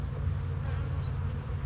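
Honey bees shaken into a queen-right starter colony make a steady, dense buzzing hum that runs close and unbroken throughout.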